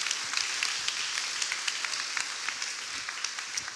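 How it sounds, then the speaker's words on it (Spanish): A church congregation gives steady applause during a service, a dense, moderately distant patter of many clapping hands with no voices over it. "Dale un aplauso a la palabra del Señor."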